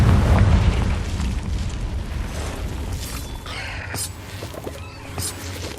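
A Confringo fire spell explodes in Hogwarts Legacy, starting with a heavy, loud boom that fades into a rolling low rumble with crackling debris over several seconds.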